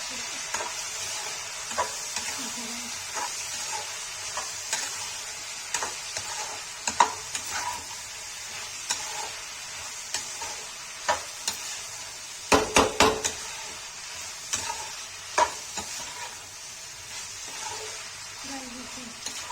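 Mixed vegetables with turmeric and red chili are stirred in a sizzling pan for Kashmiri mix veg sabji, a steady low fry hiss broken by scattered scrapes and a quick cluster of spoon knocks against the pan.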